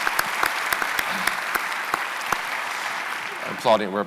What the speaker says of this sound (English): We're applauding ourselves.